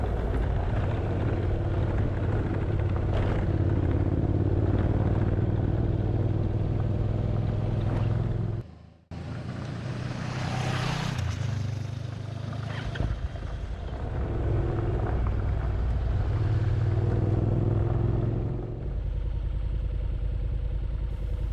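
Steady motorcycle engine drone while riding slowly along a rough gravel road, loud and continuous with a brief dip, road rumble and clatter mixed in, no talking.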